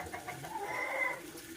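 Young ducks being caught give a short burst of squawking, agitated calls, a few close cries in quick succession over a quiet outdoor background.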